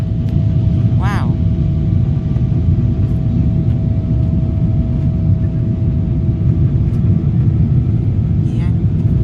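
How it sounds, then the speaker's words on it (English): Boeing 777 climbing steeply on departure from Istanbul, heard from inside the cabin as a loud steady engine roar and rumble with no break. "That was an absolute rocket takeoff. And it's still rocketing."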